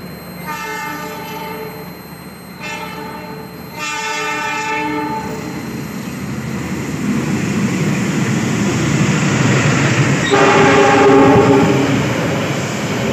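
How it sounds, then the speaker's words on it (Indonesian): The Kutojaya Selatan passenger train arriving at an Indonesian station with loud horn blasts, two short then a long one, over a rising rumble of wheels and another horn blast near the end. "ini kereta api Kuto Jaya Selatan masuk jalur 1"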